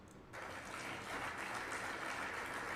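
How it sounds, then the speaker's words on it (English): A crowd breaks into loud, sustained applause for Kenya's president, a standing ovation that swells after a brief quiet start and holds as a dense, even roar of clapping. "He's got a standing fucking ovation."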